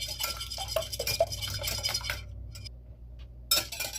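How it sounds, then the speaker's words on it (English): Eggs being beaten by hand in a bowl for a classic pecan pie: a quick, close run of light clinking whisk or fork strokes against the bowl that stops briefly, then starts again near the end. "we're going to get these eggs beaten"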